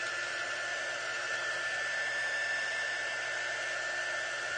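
A hair dryer blows steadily on a pumpkin craft project, a loud, continuous whooshing hum holding even for several seconds with no pauses or talk.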